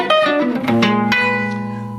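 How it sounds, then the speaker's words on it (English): Jazz guitar sounds a strummed flat 9 chord, a bright attack followed by a sustained, ringing voicing with a couple of quick added notes, played alone and close. "Nothing but a flat 9 chord."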